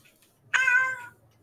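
One clear, close meow from a cat, sharp at the start and held for about half a second before fading, with quiet around it.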